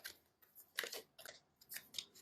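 Crisp, papery riffling and snapping of tarot cards being shuffled, in short uneven bursts, close and quiet with no talking.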